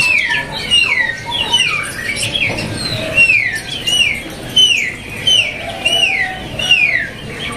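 Many konin songbirds at a bird shop call and chirp continuously, with repeated sweeping, overlapping calls from several birds close by, set against a steady background murmur of the shop.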